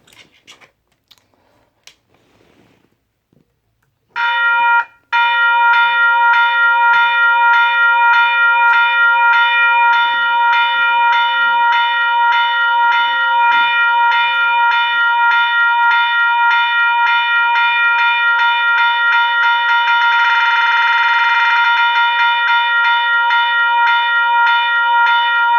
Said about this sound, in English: So that is the Type 2 Western Colonnades electronic bell